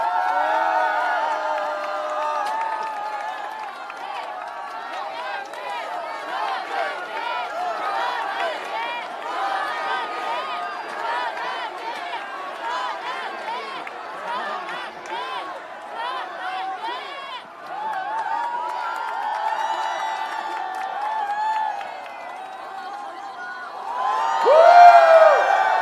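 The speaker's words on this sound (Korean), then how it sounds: "큰 박수 부탁드립니다." An audience cheers and whoops for a speaker being introduced at a special lecture in a Korean hotel conference room, with excited voices and shouts throughout and a louder swell of cheering near the end.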